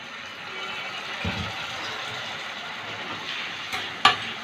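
Potato and spices stir-fried in hot oil in a pan for a curry: a steady close sizzle with a soft scrape, then a couple of sharp clinks near the end.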